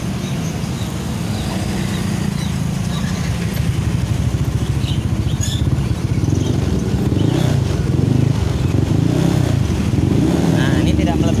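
Yamaha NMAX scooter engine running steadily after being switched on, a constant low idle hum throughout with slight rise in the second half, close by and alone without talk.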